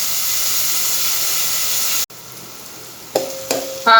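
Onion and chopped tomato sauté for a prawn green curry with a loud, steady sizzle that cuts off abruptly, then returns softer, joined by brief clinks and scraping toward the end.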